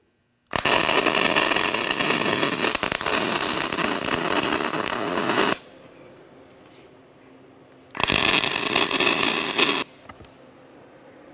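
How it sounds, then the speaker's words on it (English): Arc welding a bead on a vandal security cover, two loud sustained crackling, sizzling bursts of about five seconds and two seconds separated by a quiet pause. "now I got that one welded in position"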